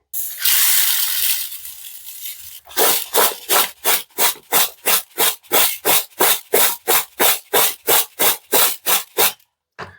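Raw mango pieces are mixed with sugar for a sweet, sour and spicy pickle. A brief grainy pour is followed by about twenty quick, evenly spaced rubbing strokes, close up and crisp.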